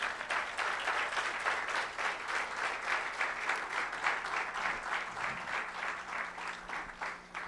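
A church congregation applauds a speaker at a sermon, with steady, dense, rhythmic clapping from a sizable crowd that carries on evenly throughout with little else audible.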